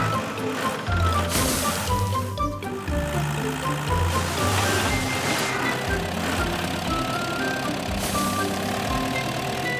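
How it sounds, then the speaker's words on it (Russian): A cartoon loader truck rolls along with steady repeating reversing beeps over a continuous engine rumble and background music, loud and close, with no talk. "Правильно, это погрузчик."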